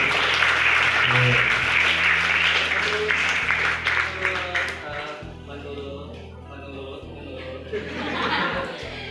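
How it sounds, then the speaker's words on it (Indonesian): An audience at a school community program presentation applauds, a wash of clapping with some chuckling that fades out as a voice begins to speak. "kasih aplaus dulu"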